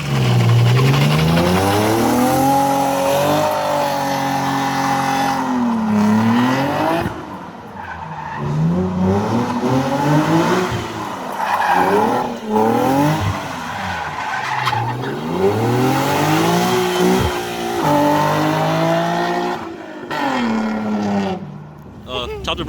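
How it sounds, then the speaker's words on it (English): A Nissan 370Z does a standing burnout, its tires squealing loud and steady for over twenty seconds while the engine revs rise and fall in repeated waves. "You can brake boost and standing burnouts."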